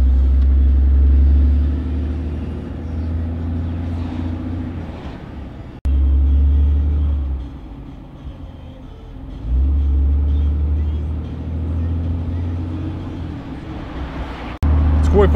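Truck cruising on rural back roads with the window down, a steady low engine and road rumble throughout, briefly easing in the middle, with someone talking over it.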